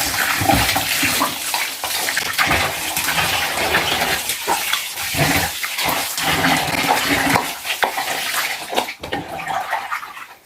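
Meat being washed under a running tap, a loud continuous gush of water splashing over it with some handling and rustling throughout, close and alone.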